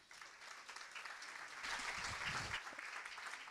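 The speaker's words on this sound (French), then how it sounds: "je vous demande de les applaudir" Audience at a French-language fundraising seminar applauds, soft at first, then swelling louder in the middle before settling back to a lighter patter.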